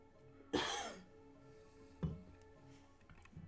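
One person coughs twice, a sharp close hack followed by a softer throat-clearing cough a moment later, over a quiet background hum.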